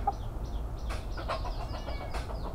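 Backyard chickens being fed give a string of short, nearby clucks and squawks in quick, uneven succession over a low background hum.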